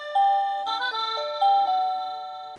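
A VANBAR video doorbell's paired chime plays a short, clear electronic ding-dong melody of several bright tones that ring out and slowly fade, heard alone.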